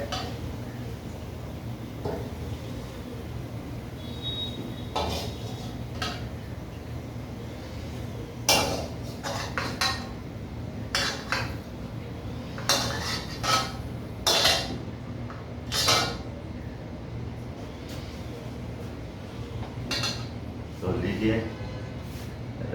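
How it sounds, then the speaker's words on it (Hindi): Cooked cumin scraped out of a traditional kadai into a bowl after the gas is turned off, giving a series of metallic clinks and scrapes spread irregularly beneath a voice talking throughout. "इसे एक बाउल में निकाल लेते हैं"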